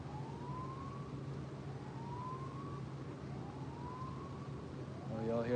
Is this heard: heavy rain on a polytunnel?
no